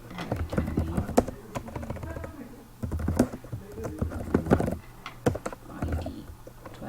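Typing on a computer keyboard while placing text in a simulation program, heard as close, uneven clusters of key taps with brief gaps, fairly quiet, alongside faint background noise.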